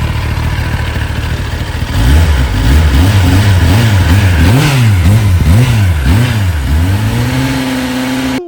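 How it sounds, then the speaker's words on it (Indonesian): A green Kawasaki ZX-10R sport bike with an aftermarket exhaust revs loud and close, its engine note swinging up and down in a series of sharp throttle blips before settling into a steady high idle. "Kira-kira kita coba gas-gas dikit lagi ya."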